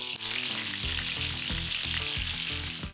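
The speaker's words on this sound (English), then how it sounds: "And then time to fry these wonders." Loud, steady sizzling and crackling of bread frying in hot oil, close up, with bubbling pops throughout and no talking.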